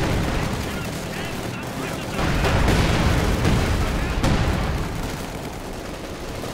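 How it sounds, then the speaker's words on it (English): Mortar and ISU-152 artillery fire in Company of Heroes 2 battle, a dense, loud rumble of booms and gunfire with heavier blasts swelling in the middle, layered over continuous combat noise. "mortar firing away once more. ISU-152 also providing heavy fire support."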